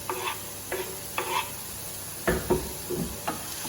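Onions, garlic and mushroom stirred in a hot oiled pan: a soft sizzle beneath a spaced series of scraping, knocking strokes from the spoon, about seven of them, close up.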